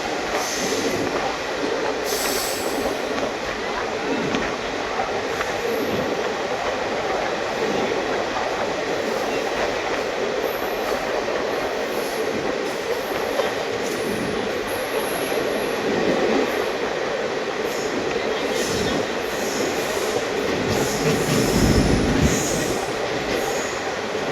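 The Dadar–Shirdi Sai Nagar Superfast Express runs through a tunnel with a steady enclosed roar, rhythmic wheel clatter on the rails and occasional high squeals, loud and continuous throughout.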